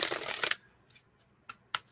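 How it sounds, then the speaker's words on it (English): A deck of tarot-style cards is shuffled in a quick papery riffle, near and crisp, followed by a few faint light card taps and flicks in a quiet room. "I'm addicted to that noise, that shuffle and the feel of the cards"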